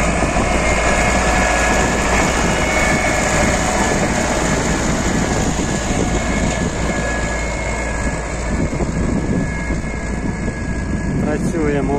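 An MTZ 80 tractor pulling an AGD 2.1 disc harrow across a former soybean field drones loudly and steadily throughout, with constant engine rumble and some wind, while a voice is faintly present.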